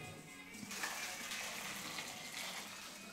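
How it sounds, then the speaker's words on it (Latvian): Boiling water pours over tomatoes in a container, a steady soft gushing and splashing that holds evenly throughout at moderate volume. "Un Kristīna tos aplies ar verdošu ūdeni."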